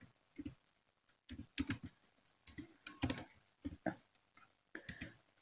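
A calendar name is typed on a computer keyboard, several short bursts of quiet, close key clicks separated by brief pauses.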